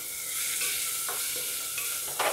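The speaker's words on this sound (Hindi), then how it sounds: "अभी हम इसको अच्छे से भुनेंगे।" Finely chopped onions sizzle and crackle in a hot pan, a steady frying hiss broken by a few scraping stirs of a utensil, with no talking.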